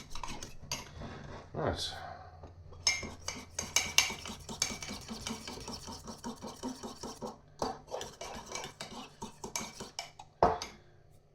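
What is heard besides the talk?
stirring a mixture in a cup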